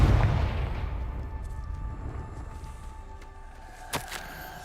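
A Confringo fire spell from Hogwarts Legacy bursts in a deep, rumbling explosion. The blast fades gradually, and a sharp, crackling impact follows near the end.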